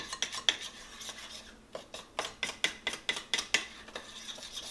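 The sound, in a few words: mixing cane syrup cookie dough by hand in a bowl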